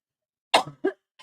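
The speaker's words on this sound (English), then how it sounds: "Got a little cough there." Two quick, close coughs, followed by a faint short throat sound, then silence.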